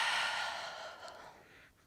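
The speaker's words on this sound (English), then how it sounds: "Breathing deeply." A long, deep exhale during a full-body yoga stretch, close and breathy, fading gradually over about two seconds with no talk.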